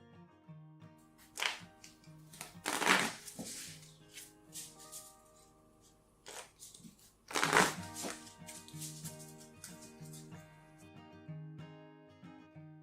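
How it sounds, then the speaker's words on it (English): Playing cards riffle-shuffled twice in loud bursts as the discard pile goes back into the deck, with softer card handling and quiet taps between, over a faint background tone. "Cards in the discard pile are shuffled back into the deck"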